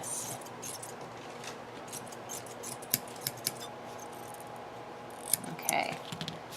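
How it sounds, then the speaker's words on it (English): Scissors cutting through hoodie fabric, a steady soft snipping and rustling with a few sharp clicks of the blades, close and fairly quiet. "I'm going to cut right across here."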